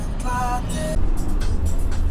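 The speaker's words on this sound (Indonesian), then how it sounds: "Mobil melaju perlahan menembus senja, jalanan berkelok mulai menanjak" A car climbing a winding mountain road at dusk in Les village, Buleleng, northern Bali: steady low engine and tyre rumble from inside or close by, with a faint tonal hum early on and no talk.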